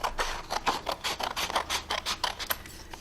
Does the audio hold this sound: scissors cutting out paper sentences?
yes